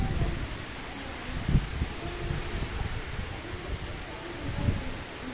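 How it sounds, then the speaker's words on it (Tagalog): Steady wind and rain during bad weather in Negros, heard as a constant broadband hiss with soft rustling and occasional low gusts buffeting the microphone, with no voices. "Pero sining hapon nagbalik din naman ang hangin kag ulan."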